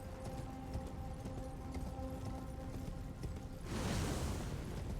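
Hooves clip-clop steadily as a horse is ridden in the action role-playing game Elden Ring, a rhythmic patter under faint ambience, then a louder rushing whoosh swells in near the end.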